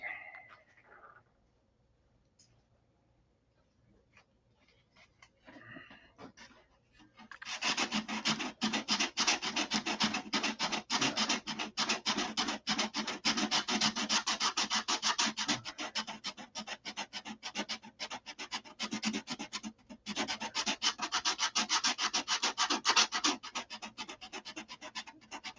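Sandpaper is rubbed by hand in long, steady back-and-forth strokes after a quiet start, producing a close, continuous, gritty scratching that stays loud with only brief pauses.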